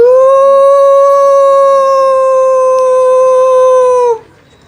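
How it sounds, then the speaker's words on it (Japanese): A single wolf gives one long, sustained, loud howl in a mountain setting, holding a steady tone for about four seconds before cutting off abruptly, with no voices present. "どこかで狼の鳴き声も聞こえてきます。"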